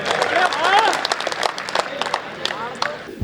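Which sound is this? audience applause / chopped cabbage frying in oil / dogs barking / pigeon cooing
audience applause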